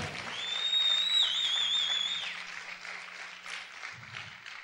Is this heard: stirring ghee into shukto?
no